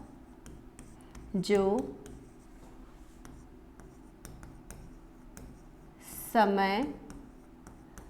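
Pen or chalk scratches on a writing surface as lines of a Hindi poem are written in a class lesson, faint short strokes heard under a teacher's speaking voice.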